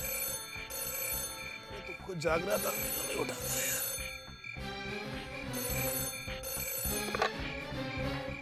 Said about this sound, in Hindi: देखिए कहीं फोन तो नहीं बज रहा है